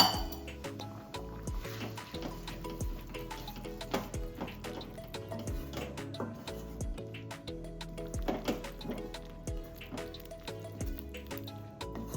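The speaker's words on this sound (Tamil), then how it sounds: "இந்த மசாலாவில் கொஞ்சமாக மட்டன் வேக வச்ச தண்ணியை ஊற்றி வேக வைப்போம்." Mutton stock poured into a pan of cooking masala, with clinking utensil taps, drips and a liquid fill sound, fairly close and steady throughout, no talking.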